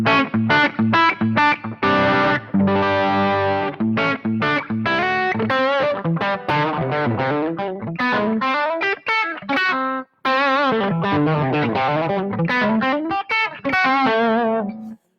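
Distorted electric guitar with Bare Knuckle pickups riffing loudly and continuously, with fast chugging notes and sustained chords, no voices.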